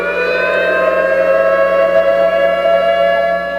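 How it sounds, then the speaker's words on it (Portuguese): A disaster warning siren installed on a hillside at-risk area wails in a loud, steady, sustained tone with layered harmonics, holding nearly level throughout with no voices. "sirene de alerta para desastres"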